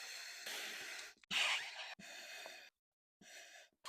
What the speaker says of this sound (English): give it a few more breaths to make it firm